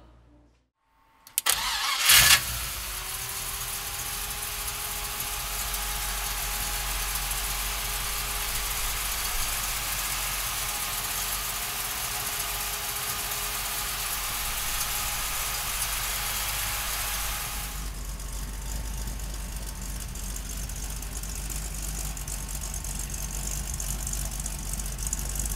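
A 1957 Chevrolet Bel Air with a 355 Chevy V8 starts with a short crank and catch, then settles into a steady, loud, rumbling idle that runs unbroken to the end.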